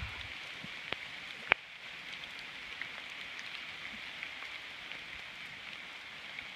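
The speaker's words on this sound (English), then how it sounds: "it's pretty hard when it's pouring down rain and windy" Heavy rain pours steadily and windily along the Camino de Santiago pilgrimage trail, a constant hiss of drops on surfaces with a single sharp tap partway through and no voices.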